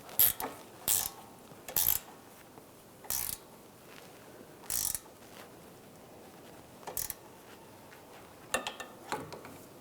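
A 15mm ratchet wrench tightens a rear sway bar link on a 2013-2016 Dodge Dart, giving short bursts of close, sharp ratcheting clicks separated by pauses.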